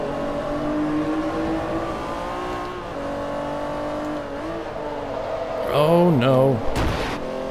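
A race car in Forza Motorsport 3 holds a steady, loud engine drone through a turn, with pitch dips and rises as it shifts and revs near the end, under a player's talk.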